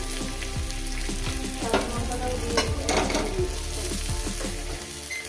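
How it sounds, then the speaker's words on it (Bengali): Eggplant and tomato fry in a pan with a steady, loud sizzle while a utensil stirs, scraping and clicking against the pan; a voice speaks briefly over the cooking. "ভেজে নেব তিন চার মিনিট করে"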